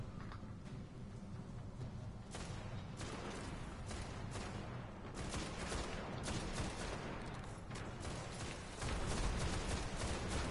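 Rapid gunfire crackles almost without pause in the video game Destiny, with dense volleys and sharp individual shots layered into a loud, continuous battle din.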